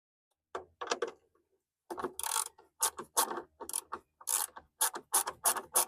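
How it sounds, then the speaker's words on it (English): A ratchet backs out the 10mm screws on a Nissan Quest tail light in short bursts of quick clicking, close and fairly quiet, with brief silent pauses between strokes. "you can use a ratchet, or if you have one of those screwdriver ratchets as well, that'll work"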